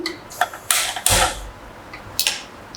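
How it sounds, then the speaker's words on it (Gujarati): A kitchen gas stove being switched on, giving a few short mechanical clicks and creaks of the knob, then a brief burst of hissing ignition, close and fairly loud with no talk. "તો આપણે હવે ગેસ ચાલુ કરીશું"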